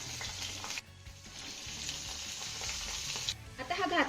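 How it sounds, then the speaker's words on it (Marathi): Sliced onion sautéing in a pan for a curd and bottle gourd dish gives a steady sizzle that carries through, with stirring noises and a short burst of voice near the end. "कांदा ना चांगला होईपर्यंत परतून घेऊया"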